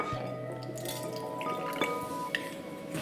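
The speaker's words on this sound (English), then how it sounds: "So I'm mixing glue and borax in hot water." Glue and borax stirred in hot water in a container to make slime: faint wet drips, squishes and light clinks of the utensil against the container, with a few sharper taps, quiet and close.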